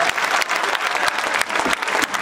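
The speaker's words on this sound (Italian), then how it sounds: "Bravissima, un applauso a Anna." An audience applauds a singer named Anna at a local show in Firenzuola: dense, steady clapping from many hands fills the whole short stretch, close and loud, with no voices over it.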